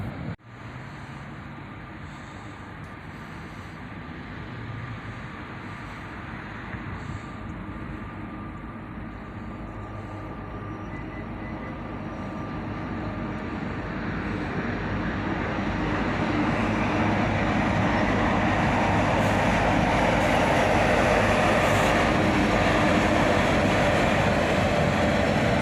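A southbound Norfolk Southern mixed manifest freight, led by an SD70ACE and a Dash 9 locomotive, approaches with a rising rumble that swells into a loud, sustained roar of engines and rolling cars close by.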